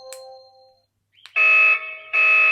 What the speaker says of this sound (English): And that's a panic alarm.